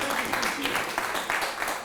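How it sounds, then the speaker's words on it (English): A lecture audience applauds a rabbi introduced before a pre-Rosh Hashana talk, with soft, steady clapping throughout the short moment and some speech mixed in. "let's give him a round of applause. Rabbi Yaakov."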